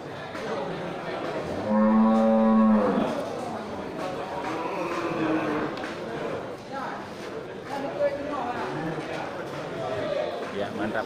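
Large local cattle in a barn stall, with one low, drawn-out moo rising near the start amid steady background chatter and people talking.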